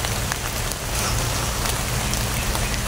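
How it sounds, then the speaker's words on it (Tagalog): Rain falling steadily on a group traveling by bus, a dense, loud, continuous patter of drops with a low rumble underneath and no pauses. "inabutan po kami ni GM ng ulan sa paglalakbay namin mga bus"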